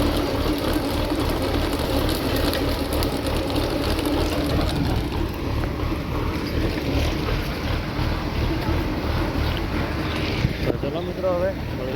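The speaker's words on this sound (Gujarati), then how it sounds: "તો જોઈ શકો છો ટ્રેક્ટર આવી ગયું છે સારી ખોદવા માટે" A tractor engine drones steadily in a village as it arrives to dig for a new line being laid, a constant loud rumble with wind-like noise that persists throughout.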